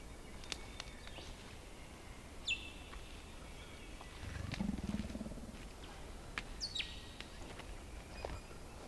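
A dinosaur roar sound effect rises as a low, rumbling growl in the middle, amid a quiet fern-covered forest on Mount Dandenong, with birds chirping faintly around it.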